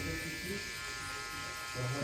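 TPOB GO electric hair clipper buzzing steadily while cutting hair, a close continuous motorized hum with a rising pitch near the end as the blade bites.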